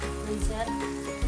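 Frozen corn sautéing in a pan gives a soft, steady sizzle for about a second, with a voice-like hum running underneath.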